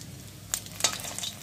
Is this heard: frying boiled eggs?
yes